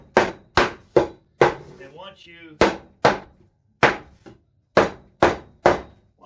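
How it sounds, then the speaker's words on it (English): A mallet tapping misaligned wall boards into alignment: about a dozen sharp, loud, close knocks in an irregular rhythm, with a brief spoken word between strikes. "all you need is your trusty mallet"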